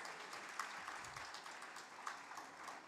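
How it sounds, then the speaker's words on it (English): Faint, distant clapping from an audience at a literary festival prize ceremony for a third prize winner, a thin, even patter with a few slightly sharper claps. "A big round of applause."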